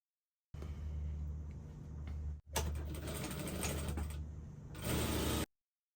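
A sewing machine stitches a cowl-neck kimono blouse in a steady, loud mechanical whir, with a brief pause near the middle and then continuing, close up and with no talking.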